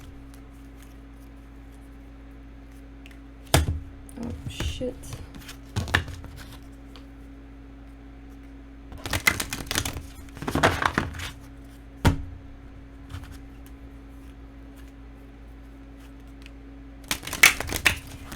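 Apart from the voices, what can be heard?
shuffling a deck of tarot cards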